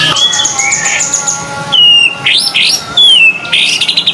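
Songbirds at a breeding shop sing loudly and close, with bright whistled phrases, rising sweeps and rapid chirps overlapping in bursts with brief gaps between.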